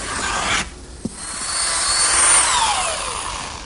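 A drill pre-drilling screw holes in wood grinds steadily with a rough, rasping whine, briefly pausing, then boring on loud and close.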